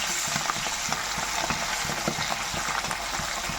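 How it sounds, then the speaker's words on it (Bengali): Hilsa fish tails fry in hot oil, a loud, steady sizzle with crackling pops and occasional stirring scrapes close by, with no talking. "এবার মাছের লেজগুলো ভাজা করে নেব।"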